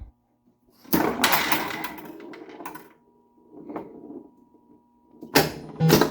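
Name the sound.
1978 Gottlieb Close Encounters pinball machine being switched on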